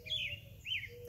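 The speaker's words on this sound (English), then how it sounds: "I see a lot of birds flying over there." Birds near hanging garden feeders on an afternoon give two clear, bright chirps close by over faint low background noise.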